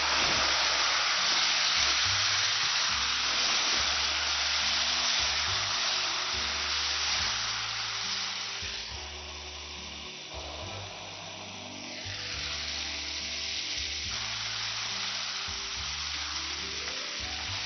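Chili sauce and chicken hitting a hot pan for chili chicken, a loud, steady close-up sizzle and fry hiss that eases slightly midway, no voices.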